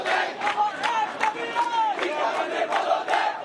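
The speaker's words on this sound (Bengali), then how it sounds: "সড়ক অবরোধ করে বিক্ষোভ করছেন শিক্ষার্থীরা" Student protesters blocking a street in Dhaka chant slogans in loud, rhythmic unison, a dense crowd of voices rising and falling in repeated beats.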